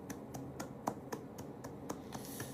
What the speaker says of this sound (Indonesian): Masih tepuk tangan lagi.